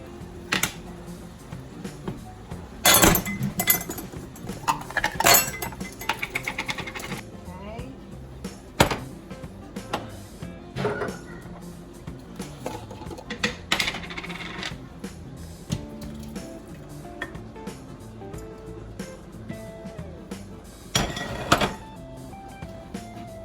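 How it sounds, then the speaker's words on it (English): Glass canning jars of home-canned crushed and diced tomatoes are opened with scattered close clinks, taps and sharp pops spread out over time, with a voice speaking between them. "So I'm just going to open those up for her."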